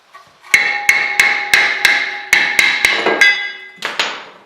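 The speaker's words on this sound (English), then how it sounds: "we're going to give the rotor a little tap to get it off" A hammer taps a brake rotor to free it from a 2015-2018 Jeep Cherokee: about nine sharp metallic strikes, close and loud, each ringing briefly, spaced in a loose rhythm with a short gap before the last blow.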